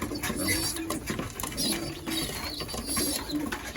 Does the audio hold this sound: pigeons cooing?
yes